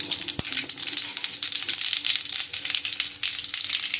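Mustard seeds and cumin land in a spoonful of hot oil, crackling and sizzling with dense, irregular pops and spits close by, one sharper snap early on, no voices.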